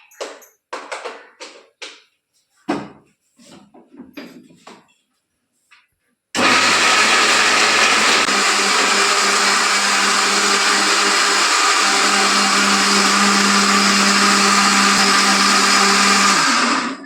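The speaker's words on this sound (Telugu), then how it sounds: "నూనె వేడయ్యే లోపల నేను చట్నీ మిక్సీకి వేసుకుంటా" A kitchen mixer grinder blends chutney while oil heats for Mysore bondas, a loud, steady whir running continuously for about ten seconds after some brief speech.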